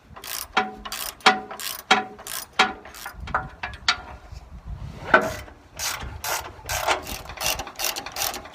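A hand ratchet backing bolts out of the mount on a Wood-Mizer sawmill debarker, with repeated rhythmic clicking bursts of the pawl, close and clear, separated by short pauses.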